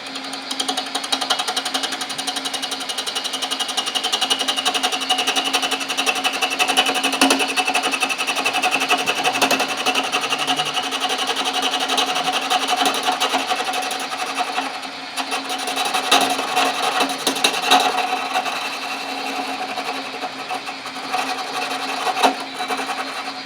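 Wood lathe turning a tenon during offset-axis work, giving a steady, continuous whir and scraping hiss from the spinning stock and tool with brief rougher bursts, close and loud, with no talking.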